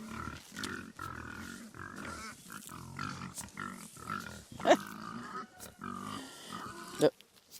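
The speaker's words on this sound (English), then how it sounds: "The pigs think you've got something for them." Pigs grunting and snuffling near a person spreading seed on a farm, a run of low, close grunts with a couple of louder squeal-like bursts, while a voice talks over them.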